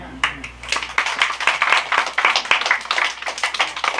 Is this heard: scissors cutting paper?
no